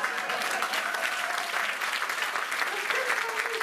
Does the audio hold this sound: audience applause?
yes